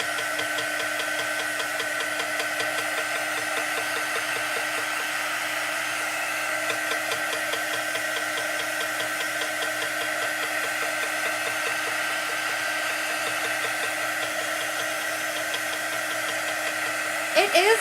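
A hair dryer drying chalk paste on a backer sheet, a loud continuous whirring blow-dryer hum running steadily and close up, alone throughout with no talking.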